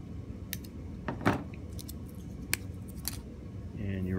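Cutters snip off the excess end of a tie wrap on a shielded F/UTP cable termination, a few sharp close clicks over low handling noise, then a voice starts at the end.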